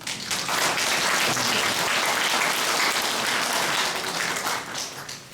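An audience at a lecture in Busan breaks into dense, steady applause, loud and close, lasting several seconds before tapering slightly.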